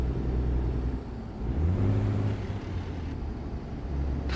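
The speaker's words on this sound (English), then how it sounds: "revving the hell out of it here to get it to downshift without the clutch" A heavy truck engine in American Truck Simulator revs hard on a curving mountain road while downshifting without the clutch. It is a steady, droning rumble that swells into a rising harmonic whine midway, then settles back, with no voices.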